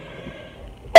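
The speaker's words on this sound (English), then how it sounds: "Excuse me, I'm getting over a cough." A single abrupt, loud cough bursts out at close range after near silence.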